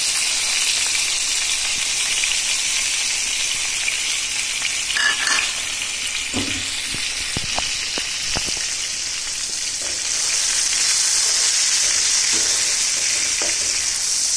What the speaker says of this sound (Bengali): কই মাছ ভুনা করার জন্য এদিকে আমি মিক্সচার করা আর টমেটো দিয়ে মশলাগুলো দিয়ে দিলাম।